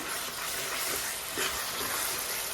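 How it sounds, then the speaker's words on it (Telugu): Ground masala paste frying with softening tomatoes in a pan for a mutton and cucumber curry, giving a dense, even hiss of sizzling close by, with a faint stir midway and no voices. "ఆ మసాలా వేసేసుకొని ఫ్రై చేసుకున్నాము"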